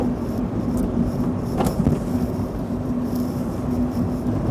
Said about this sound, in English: He's had a new cat put on it, with that reducing the amount of sound that comes through it.